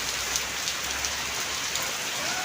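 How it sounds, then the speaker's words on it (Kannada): Heavy rain pours down steadily in Kundapur, a dense, even hiss of drops striking surfaces close by, constant and unbroken throughout. "ನಮ್ಮೂರಲ್ಲಿ ಸಿಕ್ಕಾಪಟ್ಟೆ ಮಳೆ ಬರ್ತಾ ಇದೆ ಇಲ್ಲಿ ನೋಡಿ"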